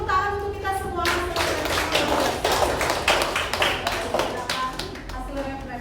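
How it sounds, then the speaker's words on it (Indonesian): A class claps together in a classroom, a dense burst of hand clapping that starts after a short spoken line and carries on for several seconds, close and fairly loud, with voices and children's chatter mixed in. "oke, tepuk tangan untuk kita semua."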